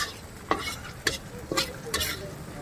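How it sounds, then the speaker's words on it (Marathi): Vada pav masala is stirred and fried in a pan: sharp scraping strokes land roughly every half second over a steady, moderate sizzle, with no talking. "मी आता वडापावचा मसाला तयार करतोय"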